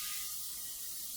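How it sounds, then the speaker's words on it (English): A short, steady hiss of non-stick cooking spray coats a baking pan, close and continuous for about a second. "I've got my pan here, and I'm going to spray it with non-stick cooking spray."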